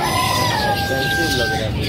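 At a bird market, a rooster crows a long drawn-out call over a busy background of clucking fowl and chatter, with people talking nearby.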